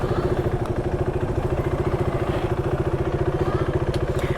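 A new motorcycle engine thumping at a steady, rapid rhythm close by, loud and even as the rider prepares to set off.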